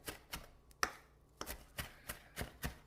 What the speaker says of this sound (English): now that we have the parsley all chopped up